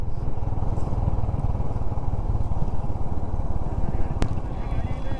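Motorcycle ridden in low gear, engine braking on a sandy stretch on a road trip toward Pangong, its engine throbbing loud and close with steady rhythmic pulsing and a rushing wind noise throughout, with a brief sharp click near the end.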